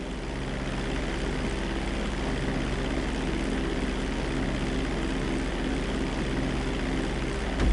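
Propeller airplane in a PS4 flight-lesson video game, its engine droning steadily and loudly throughout with no talking.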